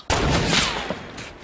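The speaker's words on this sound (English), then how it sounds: "And I almost got sniped." A single loud gunshot cracks out in the Fortnite video game, a sharp blast followed by a short booming decay, close and alone.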